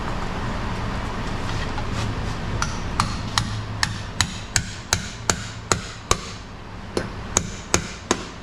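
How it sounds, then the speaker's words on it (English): A hammer repeatedly strikes a 14-bolt 9.5-inch six-lug rear axle during removal, sharp metallic blows that begin sparse and grow into a steady, fairly rapid rhythm of a dozen-plus loud, close hits over a low rumbling background. "Yep, hammer time."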